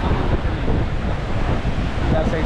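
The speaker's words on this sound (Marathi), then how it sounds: "या साईडला आहे समुद्र." Sea waves roll in at a beach at high tide, a continuous loud wash of surf with heavy wind buffeting the microphone throughout.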